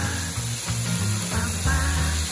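Prawns marinated in light soy sauce sizzle and spit in a hot pan, a loud, continuous frying hiss broken by a few scraping stirs and clatters close by.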